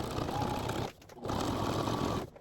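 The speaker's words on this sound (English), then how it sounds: "I've got my machine set to about a 3 and I'm just gonna sew all the way across" A domestic sewing machine set to a stitch length of about 3 runs straight across both pant hems, buzzing in two close, steady bursts separated by a brief stop.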